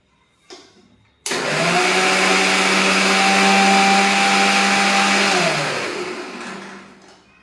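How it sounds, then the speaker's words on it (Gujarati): A kitchen mixer grinder whirs loudly as it grinds thandai ingredients with saffron, starting abruptly after a brief clatter, holding a steady high whine for several seconds, then winding down. "હવે મિક્સરમાં 1 થી 2 આટા ફેરવી લેવાના છે"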